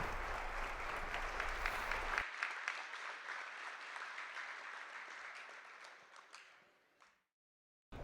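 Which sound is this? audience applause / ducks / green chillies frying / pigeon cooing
audience applause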